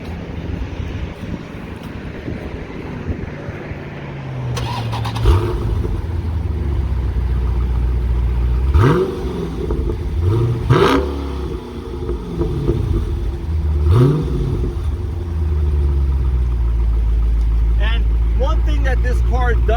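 A 2018 Dodge Challenger T/A 392 with exhaust baffles cranks and fires, then settles into a deep idle, with several sharp throttle revs swelling and falling away, recorded close and loud at the rear.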